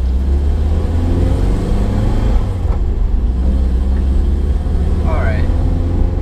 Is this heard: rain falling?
no